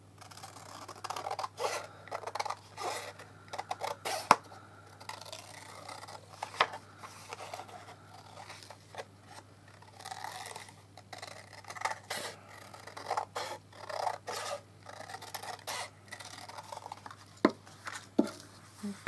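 Scissors cut pieces for bobbin lace with close, irregular snips and scraping rubs, a few sharper clicks standing out over a steady low hum, with no talking.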